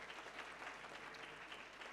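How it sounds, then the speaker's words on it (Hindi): A church congregation claps together during a Sunday service, a steady, fairly quiet wash of many hands clapping with no break for the whole stretch. "जीवंत के लिए ताली बजा के प्रभु को हम धन्यवाद देते हैं"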